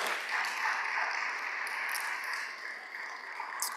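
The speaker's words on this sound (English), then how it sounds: "Let's give them another round of applause." A symposium audience on emerging issues in sports law applauds its speakers, a dense, steady wash of many clapping hands that holds at even loudness throughout.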